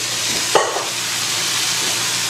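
New potatoes drop into a hot pan on a ring turned to max, giving a sharp impact followed by a loud, steady sizzle that fills the whole stretch without any talk.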